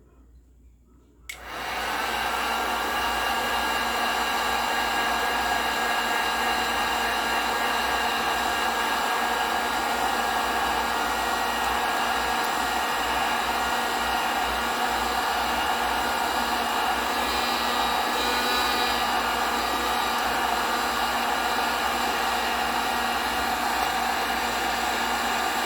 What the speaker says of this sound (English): And then you just continue the same process with your heat gun.